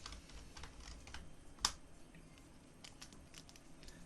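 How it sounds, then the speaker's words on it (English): Soft, quick keystrokes tap on a computer keyboard in an irregular burst, one sharper click standing out midway, all fairly quiet and close. "So if we type in the word Oblivion"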